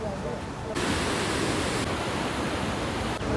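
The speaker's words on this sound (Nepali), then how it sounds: "यो चाहिँ विष्णुमती खोला।" Steady, loud rushing of the flowing Vishnumati river, a dense continuous wash of water noise that holds unbroken for the full few seconds, with no voices clearly heard over it.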